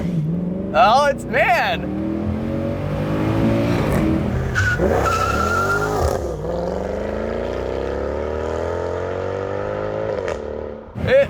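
Mercedes C63 AMG 507 coupe on fresh Michelin tyres launching from a race start, its engine howling loudly up through the revs with shifts between gears, opening with brief excited voices.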